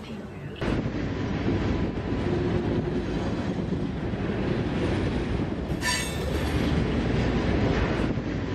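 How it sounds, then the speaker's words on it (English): A train rolls past on its rails in a loud, steady roar of wheels and railcars, with a sharp squeal of wheels on track near the end. "What train models are these"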